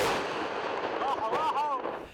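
A dull, rumbling blast and rolling noise from an Israeli strike on the city of Tyre in southern Lebanon, heard from a distance amid a noisy outdoor din, with a wavering siren-like wail rising over it partway through.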